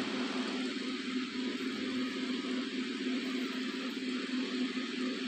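Small electric cooling fan switched on in an Arduino temperature-control project, giving a steady, even whirring hum with a low tone that runs unchanged and fairly close throughout.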